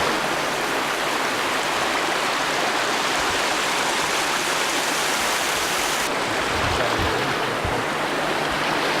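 A steady, loud rush of water pours continuously over a hydroelectric dam in Vermont, full and broadband like a spillway, with no voices over the constant roar.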